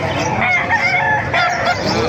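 A rooster crows loudly and close, with chickens clucking around it in a busy market yard in Calumpit.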